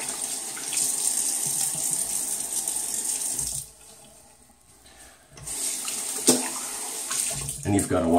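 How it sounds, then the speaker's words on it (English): Tap water runs into a sink while a face is wetted before a wet shave with a 1977 Gillette Trac II razor, a steady close splashing stream that dips briefly and then resumes. "I'm just gonna wet the face real quick a little bit."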